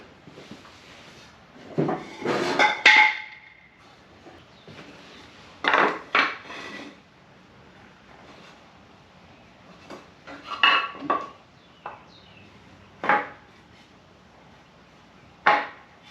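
Wooden cribbing blocks, 2x4 lumber, being stacked under a '57 Chevrolet Bel Air restomod: scattered hollow knocks and clacks of wood set down in separate bunches, fairly close, with quiet gaps between.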